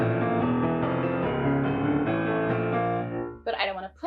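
Piano playing steady octave passages from a piece at an even, unhurried pace, fairly loud and close, ending with a brief change in texture near the close.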